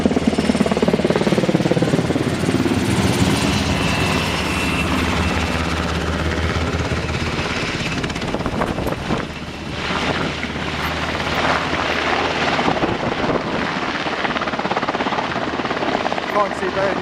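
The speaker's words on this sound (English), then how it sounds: "Just have a look here, that's a Black Hawk there." A Black Hawk helicopter roars overhead at close range, its rotor wash blowing dust into a whiteout, a loud continuous thudding drone that holds steady throughout while a voice talks underneath.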